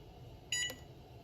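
A kitchen timer gives a short burst of electronic beeps while being set during ceviche prep, then a quieter single beep, faint over a quiet room.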